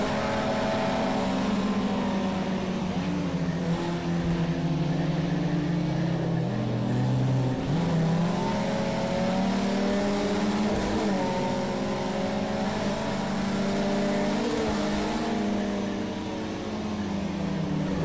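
Race car engine in the video game Project Cars, droning steadily and loud throughout, its pitch rising and falling with gear changes and acceleration.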